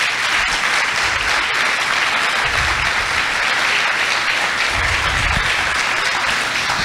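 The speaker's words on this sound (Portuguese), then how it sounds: "Você pode aplaudir o Senhor por isso" A worship congregation applauds during a church service, a loud, dense wash of clapping that holds steadily throughout, with some low rumbling thumps underneath.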